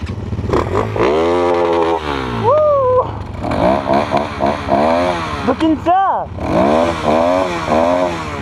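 A dirt bike engine revs hard and close on a muddy forest ride, pitch rising and falling through repeated throttle bursts, with someone shouting briefly over it.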